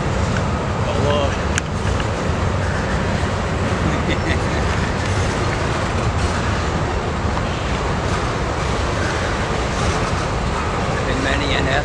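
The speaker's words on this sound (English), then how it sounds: "This is probably the second train I've caught." A train rolls past during a railfanning outing, a loud, steady broadband rumble of rail traffic that fills the whole stretch, with faint talk and surrounding noise mixed in.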